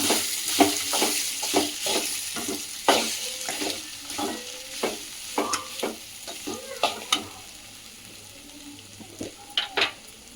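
Flattened rice being stirred for poha upma in a hot pan, with frequent rhythmic scrapes and knocks of a spoon against the metal over a soft, continuous sizzle, close and fairly loud, without speech.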